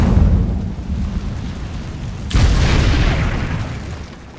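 A sudden whooshing burst of fire from an Incendio spell cast in a video game, erupting loudly midway through a rumbling ambient backdrop and then trailing off into a roaring hiss.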